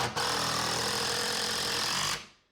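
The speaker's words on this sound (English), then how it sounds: "We're going to drive a couple of screws. We'll start with the DeWalt" A DeWalt cordless impact driver drives a couple of screws in one continuous burst of loud, rapid hammering with a motor whine, lasting about two seconds before cutting off and fading.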